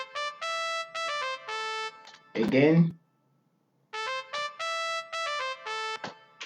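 Keyboard solo melody from a synth instrument in FL Studio, made of clear, bright sustained notes in short phrases, broken by a brief spoken word and a moment of silence before the melody resumes.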